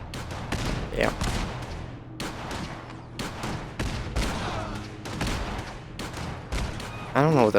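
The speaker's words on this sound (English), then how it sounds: "I don't know what that explosion is" Explosions and gunfire in the modded survival mode of the game Fallout 4 sound as a rapid series of sharp, loud blasts and bursts with rumbling tails, continuing throughout and louder at the end.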